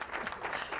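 Brief applause breaks out on a Brazilian variety show, a quick flurry of clapping lasting under a second with no voices.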